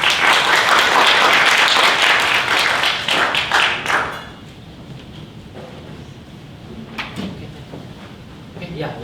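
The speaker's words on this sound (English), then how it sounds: "let's give them a round of applause to welcome them on the stage" A conference audience applauds panelists walking on stage for a Web3 and AI media discussion. The clapping is loud for about four seconds and then fades, leaving room noise and a few stray claps.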